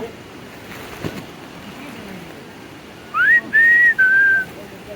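A clear whistling call of three short rising and level notes stands out against a quiet, steady outdoor background.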